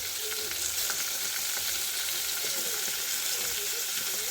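Rice frying and being stirred in a pan with sliced meat, a loud, steady sizzle with occasional scraping, close up and without talk.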